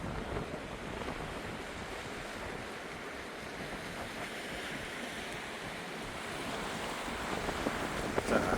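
Sea waves wash steadily onto Songjeong beach, a continuous broad surf roar mixed with wind buffeting the microphone, heard alone and fairly even throughout, swelling slightly toward the end.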